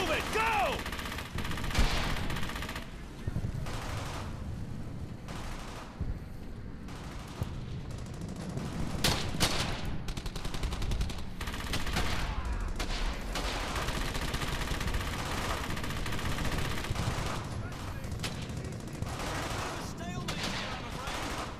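Gunfire in the video game Brothers in Arms: Hell's Highway, with an enemy machine gun team firing: dense, sustained bursts and rattling volleys pound almost without pause, loud and close, with voices shouting beneath the barrage.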